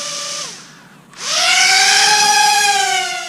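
A Propel Star Wars TIE Advanced X1 toy drone spins up for takeoff, its motors dropping briefly to quiet and then surging into a loud, steady high-pitched whine with layered tonal harmonics that holds close to the microphone.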